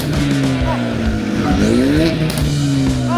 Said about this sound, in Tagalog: Paparinig ko siya yung aking kotse ha.